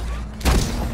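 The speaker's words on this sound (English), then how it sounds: "I shot him and he didn't die." A single loud gunshot blast from a first-person shooter match in the game Slipgate, a sharp broadband boom that sustains into a rumbling tail, with no speech over it.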